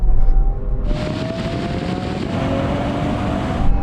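A Lamborghini Aventador and an Audi RS7 drag racing: a dense engine roar surges in after a short pause and holds loud and steady, with a faint rising whine and a gear change in the middle.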